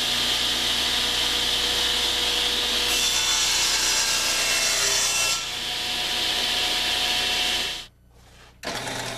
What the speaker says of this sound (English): You set the table saw blade to 45 degrees and cross-cut the stock, flipping it over with each cut